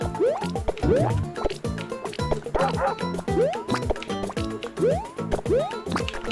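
Yoshi's chirpy rising calls from Super Mario Maker repeat in quick bouncy bursts, close and loud, over busy game music and effects.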